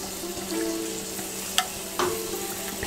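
Food scraped straight into a sizzling pan on a burner while cooking oxtail stew Roman style, a steady close frying hiss with a sharp scrape and clack partway through and a second scrape after, no voices.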